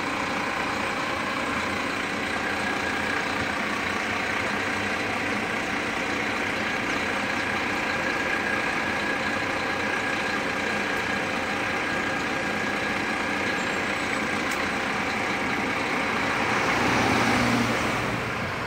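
Interstate coach of Expresso Transportes on the Sinop to Brasília route, its engine a loud, steady low rumble idling at a Brasília bus station for the whole stretch, with a slight swell near the end.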